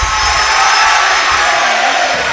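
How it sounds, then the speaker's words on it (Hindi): An audience at a Jain religious gathering claps steadily in a loud, dense wash of applause that lasts the whole moment without a break. "दोनों हाथ उठाइए, तालियां तालियां तालियां"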